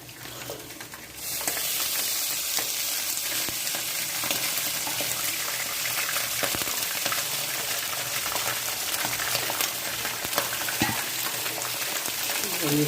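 Bone-in chicken meat hits browned onions in a pan and breaks into a loud, dense sizzle that holds steady for over ten seconds, with scattered spatter crackles and stirring noises.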